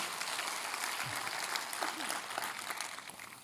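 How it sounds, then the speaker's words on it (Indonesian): Steady applause from a church congregation fills the space, a dense wash of clapping with faint voices mixed in, for the praise and worship team. "Boleh tepuk tangannya di-extend buat tim praise and worship kita."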